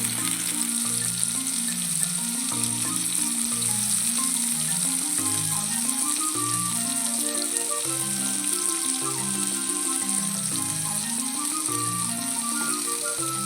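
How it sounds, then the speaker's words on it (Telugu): Stuffed brinjals frying in hot oil, a dense, steady sizzle with constant bubbling crackle that holds evenly loud for the whole stretch, with no talking. "ఇప్పుడు వంకాయలు అనేవి కొంచెం ఫైవ్ మినిట్స్ ఫ్రై చేసుకోవాలి"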